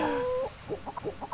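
A chicken in the space-survival game Breathedge gives a drawn-out tonal call, then a run of short, clipped clucks in an uneven rhythm, close and clear with no voices.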